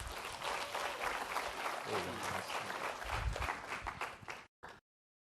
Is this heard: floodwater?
no